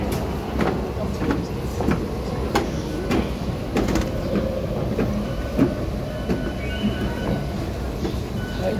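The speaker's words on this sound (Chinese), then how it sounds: "开往泸州的捷运列车在三明高中站停" A Taipei Metro C371 high-capacity steel-wheel train, set 454+453, bound for Luzhou, pulls into Sanmin Senior High School station with a steady, close rumble, clattering wheels and faint squeaks throughout, with no talking.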